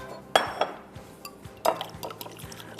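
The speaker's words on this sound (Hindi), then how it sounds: "फेंट लीजिए उनको।" Three eggs beaten in a bowl for French toast batter, giving a few sharp utensil clinks against the dish amid soft, irregular stirring and scraping, close and moderately loud.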